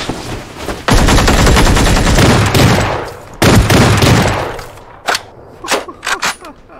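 Shotgun fire in a video game, loud, close blasts in dense, heavy bursts followed by several sharper separate shots as the noise tails off.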